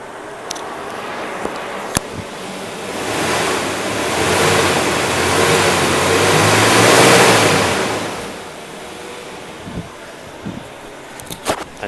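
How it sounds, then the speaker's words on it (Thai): A 1997 Mercedes-Benz W202 C220 engine revs up in a long, swelling roar, then eases back down to a quiet idle, with a few clicks around it. "เดี๋ยวจะลองเร่งเครื่องให้ดู"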